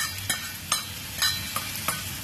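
Karandi shrimp sautéing with onions in a pan, a soft steady sizzle with several sharp stirring scrapes at regular intervals, close and alone.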